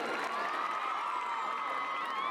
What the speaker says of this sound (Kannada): ಮತ್ತೊಮ್ಮೆ ಜೋರಾದ ಚಪ್ಪಾಳೆ ಬರಲಿ ಆ ಮಕ್ಕಳಿಗೆ.